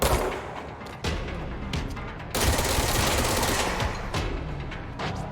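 Sustained automatic gunfire in Control, loud and close, dense rattling bursts running almost continuously with brief gaps.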